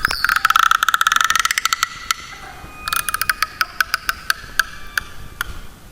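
Frog croaks imitated by musicians on instruments, rapid rattling ratchet-like clicks in fast bursts, then slower separate sharp ticks with a faint whistled tone, close and crisp.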